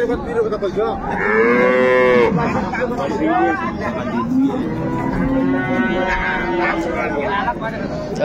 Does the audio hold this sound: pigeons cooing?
no